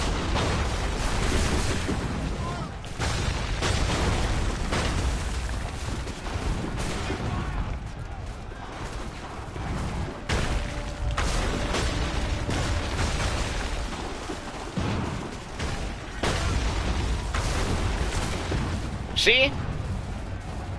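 Soldiers' gunfire in the video game Assassin's Creed 3 Remastered, a steady din of shots and booms with one sharp crack near the end, all running under someone talking.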